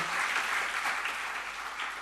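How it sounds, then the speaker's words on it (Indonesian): A church congregation breaks into brief, full applause during a Bible study service, a steady wash of many hands clapping throughout. "Beri tepuk tangan bagi Tuhan kita."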